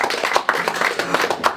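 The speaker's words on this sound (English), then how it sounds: "Big round of applause" Applause from an audience at an evening awards-style event in a Coventry farmhouse venue, a dense steady patter of many clapping hands filling the room, with faint voices mixed in.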